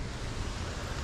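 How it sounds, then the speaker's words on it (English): Strong wind blasting across an outdoor microphone on a very windy day near a Jeep Wrangler, a steady low roaring rush that fills the whole second with no voices. "it's very windy."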